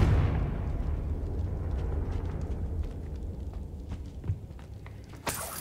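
A Confringo fire spell from Hogwarts Legacy bursts with a heavy low boom at the start, then a fading rumble, faint footsteps and small clicks, and a sharp crack near the end.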